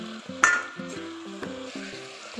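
Potato and cauliflower frying in a pan, a soft continuous sizzle under rhythmic scraping strokes of a spatula, close and moderately loud.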